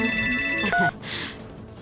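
A telephone rings in a Telugu TV serial scene: a short electronic ringtone of bright repeating tones, close and clear, that cuts off after under a second.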